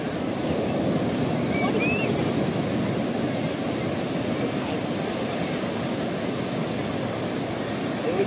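Sea waves breaking on the shore at Puri beach, a constant loud roar of surf with wind buffeting the microphone and no pauses.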